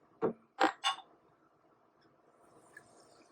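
Homemade jabuticaba soda poured into a glass at an angle: three sharp glassy clinks up close, then a soft, steady fizzing pour that runs quietly to the end.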